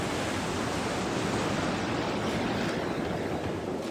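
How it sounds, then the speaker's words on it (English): Large ocean waves, roughly twice a person's height, crash on a shore at sunset as a steady, broad roar of surf with no pauses and no voices. "Wow, look at those waves."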